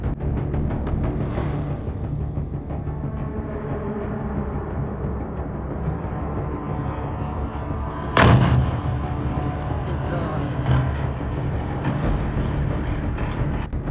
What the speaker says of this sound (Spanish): Él baja sobre el almacén y explota